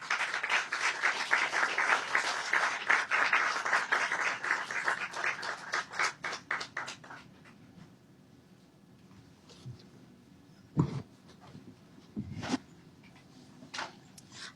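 An audience claps for the panelists at a bookstore talk event, with steady dense applause for about seven seconds that fades out, followed by a few scattered bumps and handling noises.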